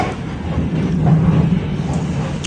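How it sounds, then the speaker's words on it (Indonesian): Pangrango passenger train running after departing Cibadak station, a steady broadband rumble of the moving train heard from inside, continuous and fairly loud with no speech. "kereta api Pangrango telah diberangkatkan dari stasiun Cibadak"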